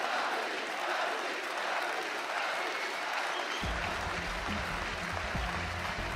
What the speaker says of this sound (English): the crowd is showing their appreciation